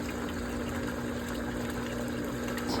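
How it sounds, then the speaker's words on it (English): An upgraded duck pond pump moves water with a steady, faint electric hum and a continuous soft rush of flowing water, even and unbroken from start to finish, with no talking. "This is the upgraded pump."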